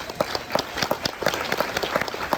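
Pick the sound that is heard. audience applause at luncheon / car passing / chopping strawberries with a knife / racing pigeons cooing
audience applause at luncheon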